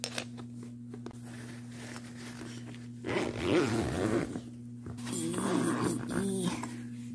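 A clothing zipper is pulled in two quick bursts over a steady low hum, fairly close and alone, with no voices.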